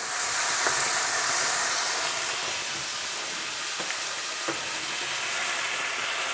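Stock poured into a hot pan for Chinese chicken and cashew nuts hisses and sizzles in a loud, steady wash of noise, with a few faint utensil taps and no talking.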